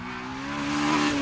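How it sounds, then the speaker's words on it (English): A Mugen Civic Type R with new pistons, camshafts and twin big exhaust tailpipes drives past, its engine a steady, rising tonal drone that swells slightly louder toward the end, with no talking. "Those 2 big exhaust tailpipes are noisy enough to remind you that you've got something a little bit special"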